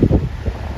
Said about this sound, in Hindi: हवा बहुत बढ़िया चल रही है, एकदम मस्त ताज़ी हवा, देखो फुल बहुत तेज हवा है।